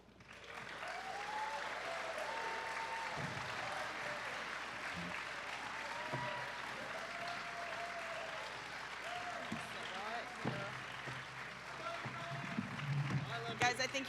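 Convention audience at a comic panel applauding steadily in a large hall, a dense sustained wash of clapping that swells slightly near the end, with a voice faintly audible underneath.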